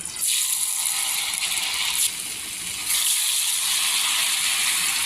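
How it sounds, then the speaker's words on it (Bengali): Potato french fries sizzling in hot oil, a steady bright hiss that holds loud and dense throughout, with a slight dip midway before the crackle swells again. "এখন আমি তেল গরম করে নিচ্ছি, তেলের মধ্যে দিয়ে দিলাম।"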